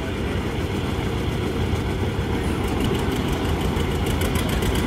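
A 1953 John Deere R tractor engine at a Lafayette tractor pull runs steadily, a continuous rumbling drone with a faint rhythmic knock, loud and close with no talk over it.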